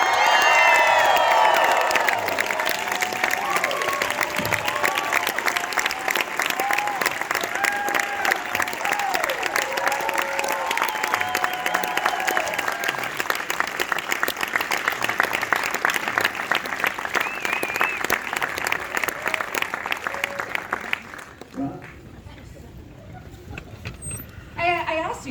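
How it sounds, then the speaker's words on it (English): Loud, sustained audience applause and cheering for actor Austin Butler, with whoops and shouts over thick clapping for about twenty seconds before it fades away and a voice begins speaking. "I asked you guys to save your applause, and thank you."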